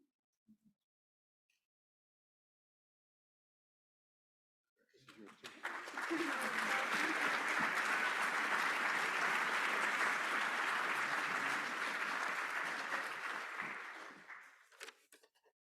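Ceremony audience bursts into applause after a near-silent stretch, a full, steady round of clapping that swells quickly, holds loud for several seconds, then tapers away with a few stray claps.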